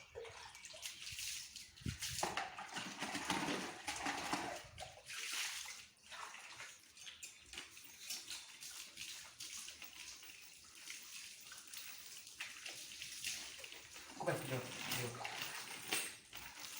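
Water splashes and pours in uneven bursts over a dog being washed with fragrant shampoo at home, with a person talking throughout over the running water.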